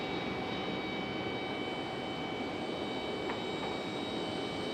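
Airliner departing Raleigh-Durham airport, a steady distant engine roar with a faint whine, holding level throughout without talk.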